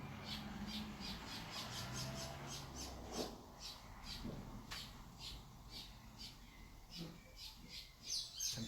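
A blackbird sings in the background, its fluting phrases repeating faintly behind a person talking.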